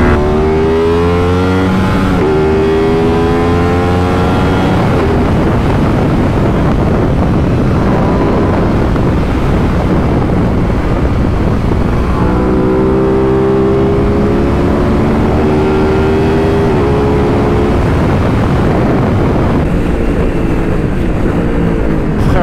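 An Aprilia RS 660 motorcycle ridden at high speed on the road, its engine revving loudly and rising through gears under heavy wind rush, with a shift-like drop before the roar climbs again.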